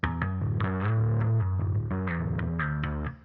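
A short electric bass riff of several plucked notes with a shimmering chorus effect, played alone and fading out at the end.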